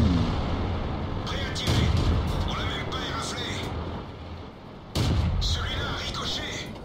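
Two heavy tank cannon blasts in World of Tanks boom a few seconds apart, each fading into a rumbling tail, with a voice speaking over the game sounds.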